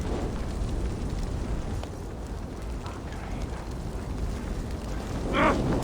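A fire and explosion in the Assassin's Creed Valhalla video game gives a loud, continuous rumbling roar with crackling texture that swells briefly near the end, with no clear talk over it.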